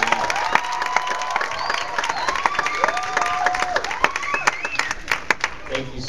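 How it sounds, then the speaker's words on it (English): An audience claps and cheers for a band, a busy patter of hands mixed with shouts and whoops, and voices carry through it. "I think we should give one more round of applause too for this band."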